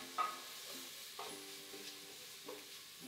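Onion and dried bacon frying in a pot for a bean stew, stirred now and then, giving a faint steady sizzle with a few soft scraping stir sounds, quiet and close with no talking.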